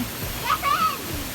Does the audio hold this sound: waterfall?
yes